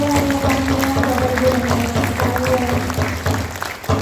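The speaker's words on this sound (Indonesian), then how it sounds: "Kita berikan tepuk tangan yang banyak Bapak Ibu dan sekalian." An audience at the opening of a national seminar in Papua claps along, moderate continuous applause layered with a steady background tone and some crowd murmur.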